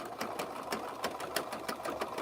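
Sewing machine stitching rope for a handbag, a fast even run of mechanical needle clicks and motor whir, close and moderately quiet, no speech.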